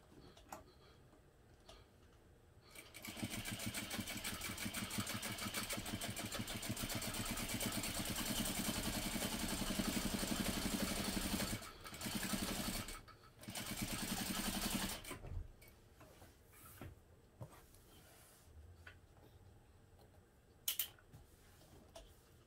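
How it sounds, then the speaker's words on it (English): A sewing machine runs steadily while top stitching along a seam through the bottom panel of a sewn project at a 1/8 inch allowance. The whirring lasts about twelve seconds, briefly pauses and restarts, then gives way to quieter handling sounds. "Top stitch along the seam through the bottom panel using a 1/8 inch seam allowance."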